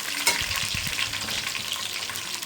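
Onions frying golden brown in oil for Karachi-style chicken biryani, a steady close sizzle with faint stirring clinks.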